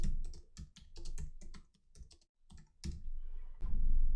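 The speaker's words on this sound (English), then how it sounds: "So I'm going to type some text in here." Quick bursts of keystrokes as text is typed on a computer keyboard, close and crisp, with brief pauses between runs of clicks.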